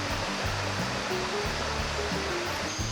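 A calm river flows at a confluence where the water is usually higher, a steady close wash of running water with no voices.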